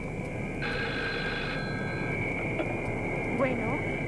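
A telephone rings with a steady electronic tone over a low background hum, then the ringing fades out.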